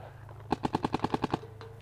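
A paintball gun firing after being degassed: a quick string of about nine evenly spaced pops, close and crisp, over a low steady hum.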